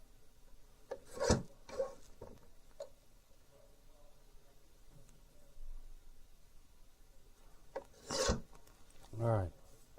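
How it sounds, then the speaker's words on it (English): Scissors snip through printed laser transfer paper in short, close, crisp bursts of cutting separated by quiet pauses, with soft rustling of the sheet between cuts. "let me just trim this side one more time so I can get it as close as I can"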